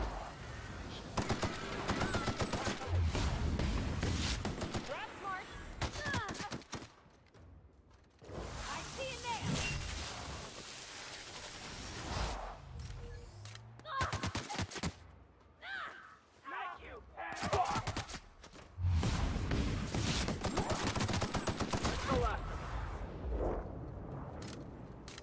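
Rapid gunfire from a weapon in a video game, with repeated bursts of loud shots and sustained firing spells broken by short pauses, while someone talks over parts of the action.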